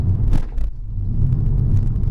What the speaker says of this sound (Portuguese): eu vou passar num sonorizador para ver como é que o carro se comporta numa velocidade de 40 por